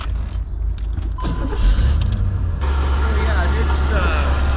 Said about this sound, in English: we're going to start up by starting up the car. You can hear the engine run